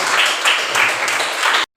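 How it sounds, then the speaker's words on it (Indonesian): A room of people at an Indonesian classroom presentation session applauds the next group, with dense, steady clapping at close range that lasts under two seconds and then stops abruptly. "Selanjutnya kita beri tepuk tangan yang meriah kepada presentasi berikutnya"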